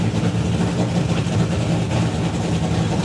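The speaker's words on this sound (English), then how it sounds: "So Simon Hayward put in a couple of really nice looking launches" Nitro Funny Car launching at a drag racing meet, a loud, sustained, dense engine roar heard alone with no break through the whole stretch.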